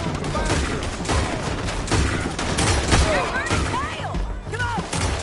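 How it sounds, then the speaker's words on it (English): Gunfire rattles through a Red Dead Redemption 2 town shootout, dense bursts of shots and booms layered with shouting voices and chaotic noise throughout. "Shoot those bastards!"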